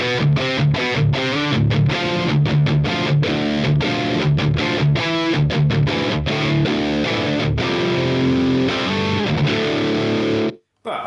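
An electric guitar plays through the Line 6 Helix FATALITY Dual Rectifier amp model, giving loud, heavily distorted chugging riffs with sharp palm-muted stops. The riffs play alone and cut off abruptly near the end.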